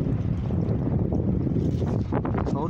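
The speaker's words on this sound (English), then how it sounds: "All that wind in the background's killing me, man." Wind gusts roar steadily across the microphone outdoors during a turtle-hunting outing near water, a broad continuous rush with some faint higher movement toward the end.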